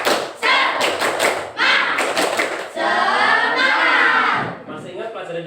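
Schoolchildren in a classroom perform the rhythmic 'tepuk semangat' clapping chant, bursts of loud claps with shouted voices, then a sustained group chant.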